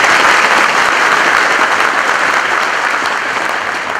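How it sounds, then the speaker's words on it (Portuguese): Sustained, loud audience applause at a university rector's inauguration ceremony, a dense wash of many hands clapping that tapers slightly toward the end. "Uma salva de palmas."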